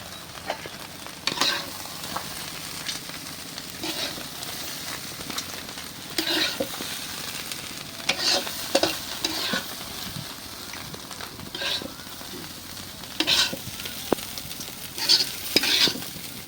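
Sliced bitter gourd (ucche) frying in a pan, with a steady sizzle broken by repeated scraping strokes of a spatula as it is stirred, close and moderately loud, with no talking.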